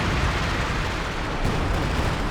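A coordinated fire incendiary barrage in Company of Heroes 2 roars as a dense, continuous wash of bursting and crackling explosions, loud and unbroken throughout.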